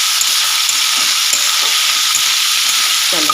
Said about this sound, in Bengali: এবারে মাছটা আর পেঁয়াজটা একসঙ্গে বেশ ভালো করে ভাজা ভাজা করতে হবে।